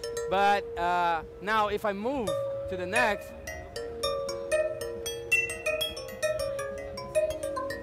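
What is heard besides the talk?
Chromaphone physical modeling synth percussion, single key played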